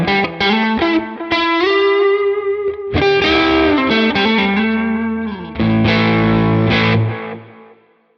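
Electric guitar through a Quad Cortex amp plugin with an open, slightly driven tone, a run of picked notes and chords played loud and close before fading out, with no voices.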